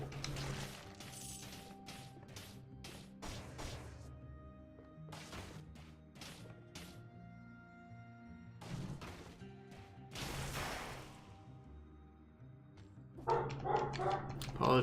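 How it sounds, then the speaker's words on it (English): A dog barks repeatedly in the background, sharp separate barks heard over game sounds during a Dead Cells playthrough, with short crashing effects mixed in. "Apologies for the dog."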